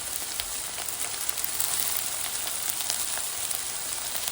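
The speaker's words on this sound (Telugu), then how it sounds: "ఇందులోకి ఫ్రెష్గా వచ్చిన తోటకూర వేసేస్తున్నాం" Fresh amaranth leaves fry in oil with onions and green chilies, a continuous close sizzle and crackle with light pops and no speech.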